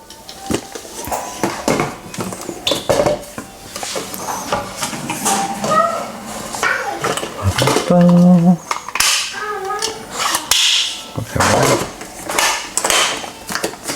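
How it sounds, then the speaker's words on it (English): The bean hopper of a Sage Barista Express espresso machine is fitted back on, with loud, close plastic clatters, knocks and rattling handling sounds coming in quick bursts. "Pop the hopper back on."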